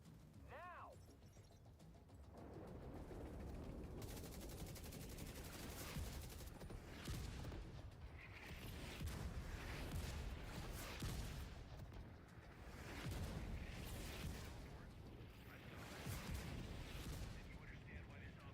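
Mortar fire in The Division 2 shooter game: a dense, continuous barrage of booming blasts and rapid gunfire over nearly twenty seconds, with a voice talking over the din at the start.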